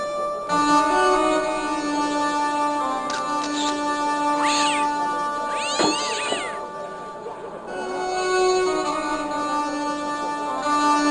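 A cat in the Broken Sword video game meows repeatedly in drawn-out, wavering cries over a continuous background music bed, close and clear for the whole stretch.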